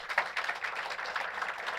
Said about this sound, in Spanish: vamos a darle un fuerte aplauso al Señor en esta